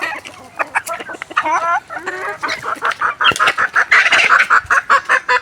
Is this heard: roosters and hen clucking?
yes